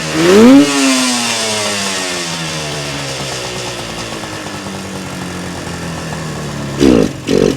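A Suzuki GT250 two-stroke twin motorcycle engine, freshly reassembled, revs up then settles into a steady loud idle on both cylinders, with a couple of brief throttle blips near the end.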